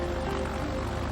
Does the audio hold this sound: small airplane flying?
yes